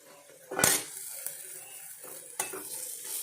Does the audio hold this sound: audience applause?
no